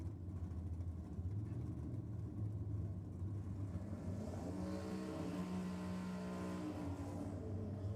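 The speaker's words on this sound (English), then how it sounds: "There's the turbo spool" Turbocharged LS V8 in a Holden VK drag car spooling up at a nitro drag racing meet, a steady loud engine rumble that rises into a climbing, whistling tone partway through.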